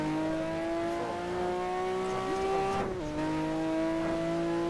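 A race car in a racing video game drones at steady high revs, its engine note dipping briefly as it shifts or brakes, with faint tire scrubbing under the constant tone.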